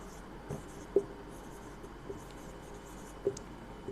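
Faint strokes of writing on a board during a physics class on the laws of motion, with soft scratching and a few light taps spread over a quiet room tone.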